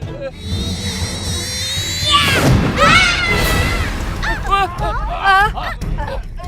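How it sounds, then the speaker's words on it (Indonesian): A big cartoon explosion in the animated series Teddy Boy bursts into a loud, broad rumbling blast lasting about a second and a half, surrounded by high whistling tones and animated character voices. "Itu ledakan yang besar banget."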